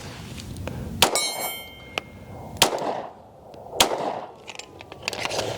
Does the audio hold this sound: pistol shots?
yes